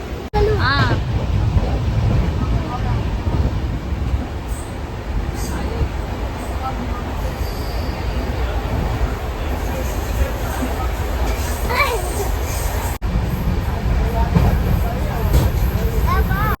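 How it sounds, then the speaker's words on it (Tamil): A steady rumbling roar of a moving train carriage fills the space, with people talking and murmuring faintly beneath the noise. "ட்ரெயின் மூவ் ஆகுது, கிளம்பிடுச்சு."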